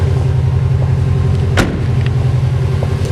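Subaru Impreza WRX with STI front end running, a steady close low exhaust rumble throughout with one brief sharp transient midway, no voices.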